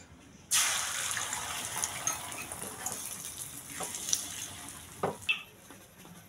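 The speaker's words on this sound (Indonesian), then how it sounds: "Kita gorengnya bagi 2 ya." Beaten eggs seasoned with flavouring are poured into hot oil in a pan and break into a loud sizzle. The frying crackles on steadily, with a few brief scrapes and clinks of utensils.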